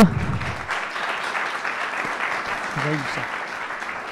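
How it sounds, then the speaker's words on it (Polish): Audience applause after a business talk on operational scaling and internationalization, a steady wash of clapping held across the whole stretch, with a brief low voice near the start and another murmur near the end. "Super Bartku, wielkie dzięki, wielkie brawa."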